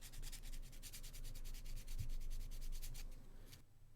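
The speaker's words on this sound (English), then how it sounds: "a little bit of sanding will smooth out that" Rapid rhythmic rubbing strokes of sandpaper on a hard surface of a duck figure, smoothing a transition, close and steady, stopping abruptly near the end.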